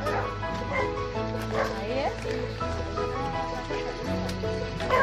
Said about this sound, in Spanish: Ahí están los perros esperándolos.